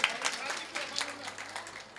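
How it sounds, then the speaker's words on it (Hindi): Audience at a Jain community closing ceremony applauding to welcome a municipal councillor, a fairly faint, steady patter of many hands clapping at a distance. "मैं सभी जैन समाज के लोगों से चाहूंगा जोरदार तालियों के साथ एक बार निगम पार्षद जी का स्वागत।"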